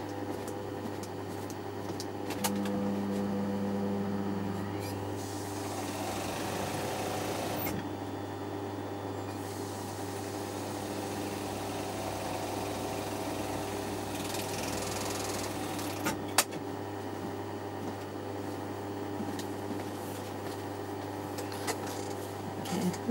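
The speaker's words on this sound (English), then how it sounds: "so we're going to overlock this and also" An overlocker stitches along the edge of a fraying fabric with a steady mechanical whirr, heard close and continuous. Brief pauses and clicks break up the sewing runs.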